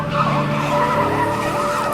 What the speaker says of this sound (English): Tires screeching as it flees the scene.